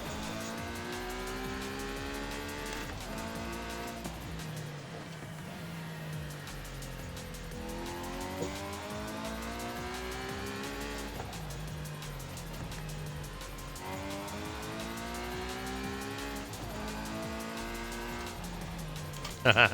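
A 2019 Ferrari Monza SP2 on drag tires in Forza Horizon 5 is driven at speed. The engine note rises and falls steadily through repeated upshifts, with some tire noise, and stays loud and close throughout.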